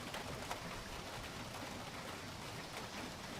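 Rain falls steadily, a faint continuous hiss of drops on surfaces with no voices, soft and even throughout.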